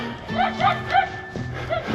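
Small dogs yap in a quick series of sharp barks, several bursts over two seconds, at moderate distance along a neighborhood walk near a pond.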